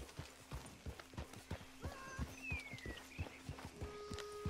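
Rhythmic hoofbeats of a fast horse clip-clop in Red Dead Redemption 2, with a short neigh partway through and faint tonal game sounds behind.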